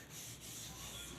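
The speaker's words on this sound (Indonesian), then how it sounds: "Nanti kita gosok lagi pelan-pelan" Fine sandpaper rubbed slowly over a wooden chair gives a soft, steady, hissing scrape, quiet and continuous.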